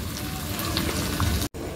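Sardines simmering in a pot set for cooking miswa noodles, a soft, close bubbling with a faint sizzle, followed by a short clunk and a brief break near the end.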